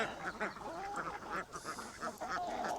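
Several ducks quack repeatedly around a homestead, a busy, overlapping chorus of nasal calls close by with no speech.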